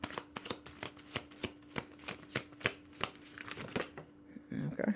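Oracle cards are shuffled by hand in a quick, even run of crisp riffling snaps, close and clear, while a voice talks softly underneath before the shuffling stops.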